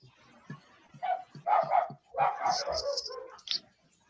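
Dogs barking and yipping in a quick, irregular cluster of mid-loud barks, with a few higher yelps toward the end.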